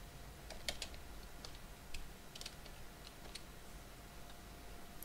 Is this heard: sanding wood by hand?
no